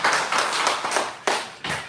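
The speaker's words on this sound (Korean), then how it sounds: "박수" Church congregation applause with several loud, sharp claps and a dense patter of hands. The clapping is close and lively, with a few accented strikes near the end.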